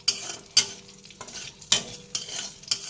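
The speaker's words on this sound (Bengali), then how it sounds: "এই তো কড়াইতে কালো জিরা আর কাঁচা লঙ্কা দিয়েছি" Black cumin seeds and green chillies crackle and pop in hot oil in an old, darkened iron wok, bursting in sharp spurts of sputtering every second or so over a softer hiss, close and without speech.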